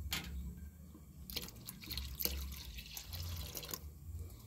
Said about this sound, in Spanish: Vamos a poner toda nuestra leche.